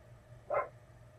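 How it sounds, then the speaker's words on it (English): A single short dog bark rings out in the background of a quiet home, brief and moderately distant, from one of two excited pet dogs. "sorry if you hear a little bit of barking in the background"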